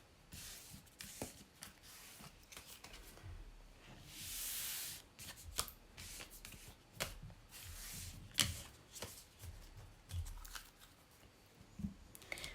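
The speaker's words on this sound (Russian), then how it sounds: "Убираю карты обратно в колоду." Lenormand fortune-telling cards gathered and shuffled back into the deck, giving soft close riffling and tapping bursts with a longer swish near the middle, quiet and without talk.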